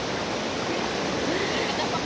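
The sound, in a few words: river water gushing after floods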